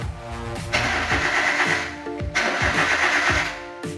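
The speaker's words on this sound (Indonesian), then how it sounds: "Ya, starter jalan, cuman mesin tidak menyala." A car engine cranks repeatedly on its starter motor without catching, a rhythmic churning whir in two long bursts separated by a short pause, loud and close, with no speech.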